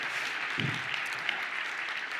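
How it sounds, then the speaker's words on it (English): Conference audience applauding a talk on React Server Components, a steady even wash of many hands clapping throughout. "Yeah, clap for Evan."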